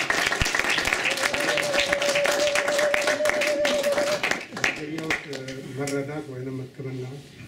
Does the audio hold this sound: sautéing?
no